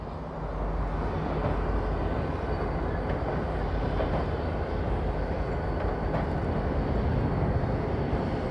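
Steady low rumble of freight diesel locomotives running as light engines without a train, a continuous heavy drone with faint metallic clanks, moderately close and loud throughout.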